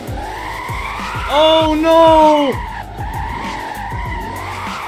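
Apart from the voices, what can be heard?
Ford Mustang tires skidding while drifting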